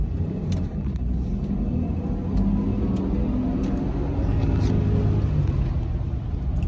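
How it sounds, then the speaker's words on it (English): A car with a manual transmission drives along, giving a steady low road rumble and engine drone throughout, with faint speech-like sounds over it. "I'm driving right now."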